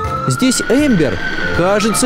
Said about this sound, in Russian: Это скорая помощь, Эмбер?